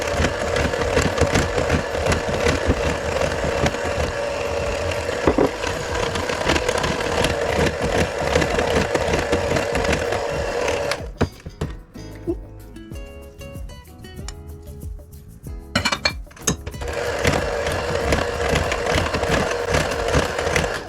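An electric mixer beats Jamaican rum cake (black cake) batter in a loud, steady whirring drone. The drone shifts and thins briefly midway, then returns to full strength, with no voices.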